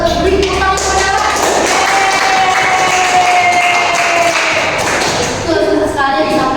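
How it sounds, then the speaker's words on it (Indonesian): Applause from an eighth-grade junior high classroom, a burst of clapping hands and shuffling lasting several seconds, loud and close, with a teacher's voice at the start. "Coba beri tepuk tangan kepada Pak."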